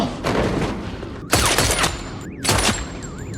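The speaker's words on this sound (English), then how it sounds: "when Kane fires the first shot it misses" Gunfire in a tense film scene: two loud, sharp bursts of shots about a second apart, each with a booming reverberant tail, set against a thin wavering tone and background score.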